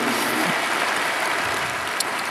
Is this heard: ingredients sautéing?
no